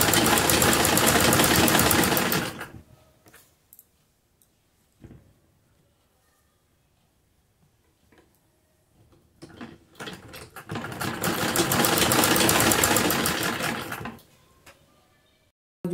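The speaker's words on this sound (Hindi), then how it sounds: "पाइपिंग निकालते हुए किनारी पर सिलाई लगाएंगे।" Close, loud whirring of a sewing machine stitching piping onto a garment sleeve, in two steady runs separated by a quiet gap with light fabric handling and clicks.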